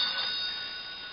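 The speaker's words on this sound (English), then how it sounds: "My phone's ringing." A telephone ringing, a short bright electronic trill of steady ringing tones, close and fairly faint, heard alone.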